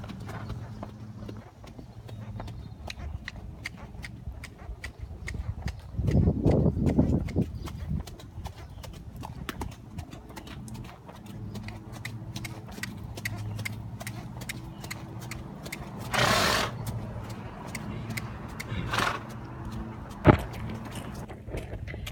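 A horse walks during a riding lesson with ground poles and cross rails, its hooves clip-clopping in a steady, fairly quiet rhythm under background noise, with a louder burst or two along the way.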